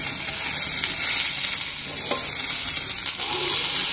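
Fried rice stir-fried in a hot, smoking pan, a steady close sizzle and hiss with scraping stir strokes throughout, no talking.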